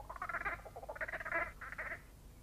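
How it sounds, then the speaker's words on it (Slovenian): Frogs croaking in loud, rhythmic bursts, several throaty croak trains in a row close by, with no talking over them. "Pravzaprav žab ne gledam, ampak jih poslušam."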